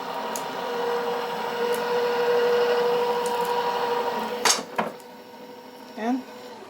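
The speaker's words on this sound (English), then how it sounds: "And I can just get it started, and it goes through on its own with this electric cutter." An Accuquilt Go electric fabric cutting machine feeding material through, giving a steady mechanical hum and whir, followed by a few clunks and handling knocks as it finishes.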